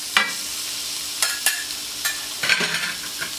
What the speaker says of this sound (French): on va les laisser tranquillement griller sur le coin de la plancha